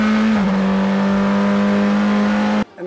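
A Praga R1 race car engine screams loudly and steadily on a track, with a brief dip in pitch as it shifts gear early on before the sound cuts off abruptly near the end.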